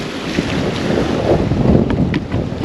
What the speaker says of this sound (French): quand les vagues elles tapent sur les cailloux